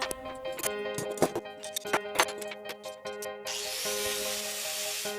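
Nuts, bolts and parts of a homemade DSLR camera handle being taken apart, a run of sharp metallic clicks, taps and scrapes close by, then a steady hiss of rubbing toward the end.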